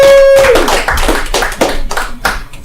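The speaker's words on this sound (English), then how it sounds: "Give a round of applause for Kate Cullen!" A comedy club audience gives a short burst of clapping for a comedian, a few seconds of scattered, uneven claps close by.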